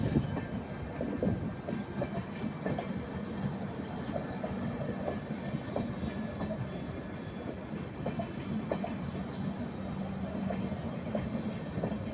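A train rumbles past steadily, with rolling wheel noise and occasional metallic clicks from the rails, sustained and fairly close throughout.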